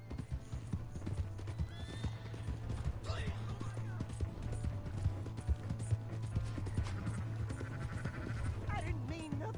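Horse hooves clip-clopping in the video game Red Dead Redemption 2, a steady rhythmic trot heard close up, with neighs and a low hum of music and game sound underneath.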